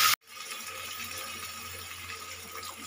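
Water pours into a cooking pot with rice, a soft, steady rushing that runs for nearly three seconds after a brief sharp click at the start, fairly faint and free of talk.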